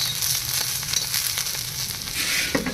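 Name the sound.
dosas frying in a pan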